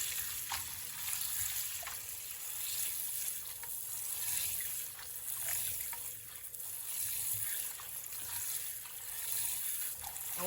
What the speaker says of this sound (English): I will rinse these off 3 to 4 times just to make sure that all